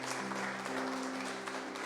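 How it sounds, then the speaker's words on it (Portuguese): A church congregation at a Sunday service claps together in steady, dense applause, moderately distant, with a low sustained hum running underneath. "Dê uma salva de palmas para o Senhor Jesus."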